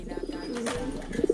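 A blue bar racing pigeon coos softly and close by, a low, throaty burbling that swells and rolls, with a few brief rustles around it.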